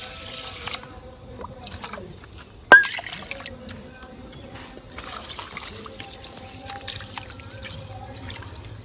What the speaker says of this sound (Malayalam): നമുക്ക് ഫസ്റ്റ് ആദ്യം അരി കഴുകിയിട്ട് തന്നെ തുടങ്ങാം.